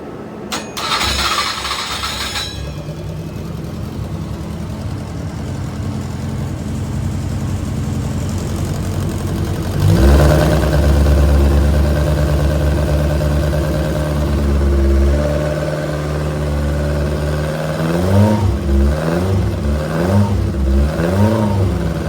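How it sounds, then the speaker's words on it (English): A classic car engine with the drive shaft disconnected starts and idles with a steady low rumble, then revs up several times in rising and falling surges, close by and loud. "I've disconnected the drive shaft so we can just hear the engine"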